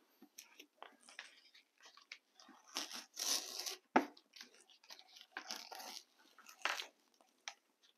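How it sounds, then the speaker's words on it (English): Tape is peeled off a fluid art canvas in a series of quiet, close ripping and crackling pulls of varying length, with brief gaps between them. "And then it's time to take the tape off."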